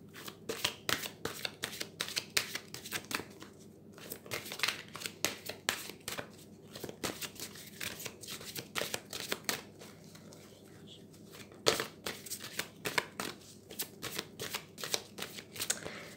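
Tarot cards being shuffled by hand, a steady run of quick papery riffles and flutters close up, continuing with brief pauses throughout.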